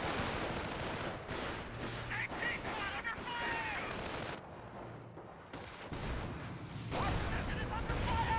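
Gunfire in the Company of Heroes World War II strategy game crackles in repeated bursts and volleys, mixed with booms and someone talking over the battle.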